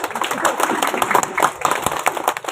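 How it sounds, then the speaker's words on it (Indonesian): Audience applause at a social ministry event for a cataract surgery program at a hospital in Kalabahi, steady dense clapping from a gathered crowd filling the whole moment. "boleh Pak tepuk tangan dulu"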